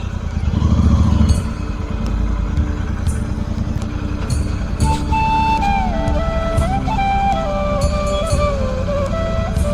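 Motorcycle engine idling and running nearby, a steady low rumble that is loudest at the start, with traffic and street noise and a high whistling tone layered over it.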